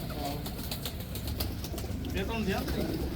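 Old khaki pigeons in a fancier's loft in Gajansu, Jammu, give low cooing over constant background hum, with a few sharp flapping or rustling bursts and faint talk nearby.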